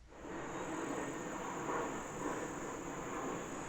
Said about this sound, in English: You can hear that airplane going overhead